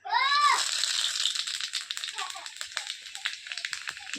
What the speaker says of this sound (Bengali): এবার দেই তেল। তেল তো অলরেডি গরম, কারণ কড়া গরম আছে, এই জন্য দেখো 5 ফোড়ন।